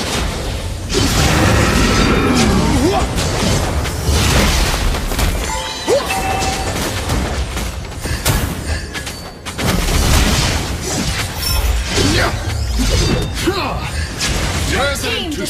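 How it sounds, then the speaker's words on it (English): A turret is destroyed in the Mobile Legends mobile game: loud booms and crashing impacts amid dense battle effects, with game announcer voice lines over the noise. "Your team destroyed a turret."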